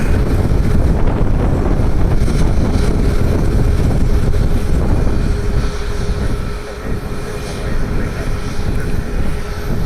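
A Cirrus Vision single-engine personal jet with its engine mounted atop the fuselage roars at Columbus airport, a loud, sustained broadband rumble and whoosh that dips briefly before swelling again, mixed with wind buffeting the microphone.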